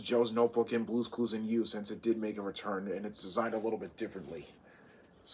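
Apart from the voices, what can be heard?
No everyday noises stand out.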